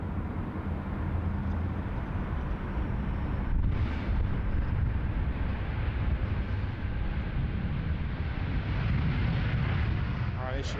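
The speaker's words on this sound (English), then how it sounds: "There she goes, the Evo Blue. The beautiful Evo Blue livery on the United Dreamliner heading back to Los Angeles" A United Boeing 787 Dreamliner in Evo Blue livery departs Sydney Airport for Los Angeles, its jet roar a loud, steady broadband rush for the whole stretch, with a voice talking over it.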